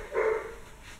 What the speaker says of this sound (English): And as you can hear, I'm dog sitting.